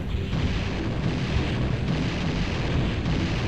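Grenade eggs burst in Banjo-Tooie with a steady, loud rumbling blast, a dense wash of explosive noise filling the whole moment without a break.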